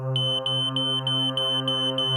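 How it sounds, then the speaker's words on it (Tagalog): A building's fire alarm sounds a loud, continuous electronic buzz with a fast repeating pulse, steady and close. "tumunog ang fire alarm ng gusali"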